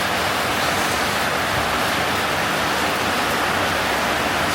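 Water running steadily from a shower or tap while rinsing off after an ice bath, a constant loud hiss and splash with no breaks and no talk.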